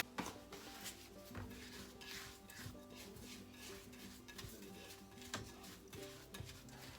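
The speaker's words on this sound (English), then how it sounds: "we're whisking our butter, our sugar, and our vegetable oil together" Butter, sugar and vegetable oil being whisked together in a mixing bowl for a rum cake, a quiet, steady whirring with soft ticking and scraping against the bowl, no voices.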